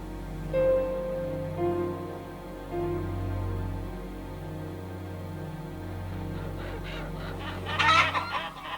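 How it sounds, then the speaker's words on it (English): Caged layer hens packed tightly together cluck steadily throughout, with a dense overlapping flock sound and a louder flurry of squawking near the end. "The layer hens are kept crammed into these cages so tightly they can't even lift a wing."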